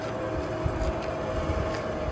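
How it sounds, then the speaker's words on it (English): Kiln fan pulling heat from a wood-fired terracotta flowerpot kiln into drying sheds: a steady, broadband mechanical drone with a low hum, constant throughout and fairly close, no voices. "at the moment that noise is the fan pulling all the heat out of the kiln into the drying sheds"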